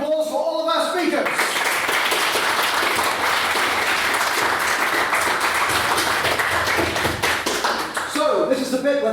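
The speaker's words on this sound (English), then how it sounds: "can we have a round of applause for all of our speakers?" Debate audience applauds its speakers, a loud dense wash of clapping sustained for several seconds, with talk briefly at the start and end.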